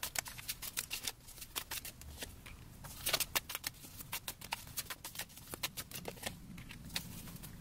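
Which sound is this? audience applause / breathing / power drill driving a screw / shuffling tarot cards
shuffling tarot cards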